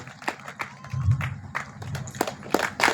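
Scattered claps and taps from a crowd at a meditation gathering, uneven and moderately loud, with a low murmur of voices underneath.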